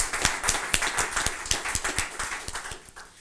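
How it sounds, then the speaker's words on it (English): An audience at a neighborhood grant press conference claps for about three seconds. The claps are dense and steady, fairly close and lively, and no one speaks. "So let's give Franklinton Rising a round of applause."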